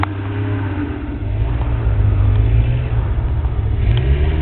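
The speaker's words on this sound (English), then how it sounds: "You have people all around trying to move their car." A car engine revs and rumbles steadily while the car is stuck in deep snow during a Montreal snowstorm, close and sustained with no voices.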